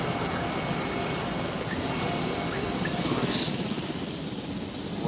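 A helicopter in the video game Jurassic World Evolution gives off a steady, dense rotor drone that holds level for about five seconds.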